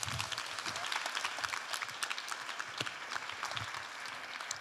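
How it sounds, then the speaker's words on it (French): An audience gives a performer named Bamba a thunderous round of applause, dense continuous clapping with some whoops, holding steady and easing slightly toward the end. "je vous demande de faire un tonnerre d'applaudissements à Bamba"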